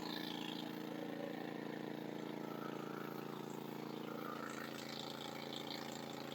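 Continuous low engine drone from an 8-inch gold dredge in Alaska, steady and unbroken, with a broadband machinery hum throughout.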